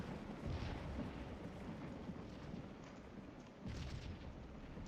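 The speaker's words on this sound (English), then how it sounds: "And let's use the artillery here." Continuous low rumbling battle noise from Civil War artillery in the Scourge of War strategy game, Battle of Stones River, with dense booming under a steady roar and no clear single shots.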